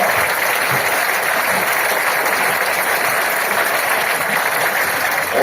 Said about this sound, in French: j'aimerais qu'on applaudisse encore une fois vraiment tous ces animateurs et les